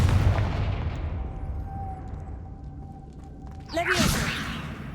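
A Confringo blasting curse in Hogwarts Legacy erupts near the end as a sudden loud burst after a steady droning hum and a thin whistling tone, with low rumble throughout.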